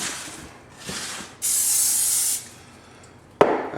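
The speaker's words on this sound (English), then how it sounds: "coat the inside with some non-stick" Short bursts of non-stick cooking spray hiss as a baking pan is coated, a longer steady spray in the middle, then a sharp clack near the end.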